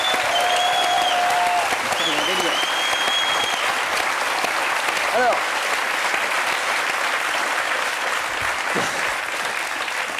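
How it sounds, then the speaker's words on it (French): A French studio audience applauds steadily for about ten seconds, the clapping fading slightly toward the end, while people talk over it and a few short whistled tones rise above. "Et une salve d'applaudissements"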